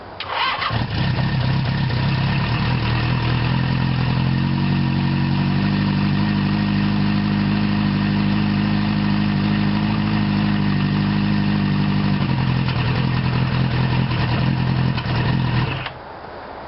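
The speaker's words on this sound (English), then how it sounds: "Now we're going to see how easily it starts up." An old motorcycle engine cranks and catches, then idles loud and steady at close range for about fifteen seconds before shutting off.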